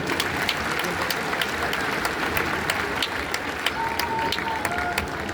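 Steady audience applause fills a Delhi hall at an Arya Samaj foundation day event, greeting Pravesh Verma; dense continuous clapping with scattered sharper claps, fairly loud throughout.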